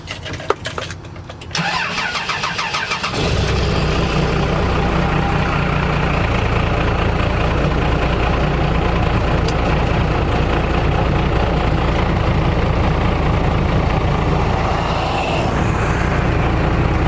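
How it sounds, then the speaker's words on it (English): A starter cranks briefly, then a heavy diesel truck engine catches and settles into a loud, steady rumbling idle that continues without pause. "So let's get the truck started."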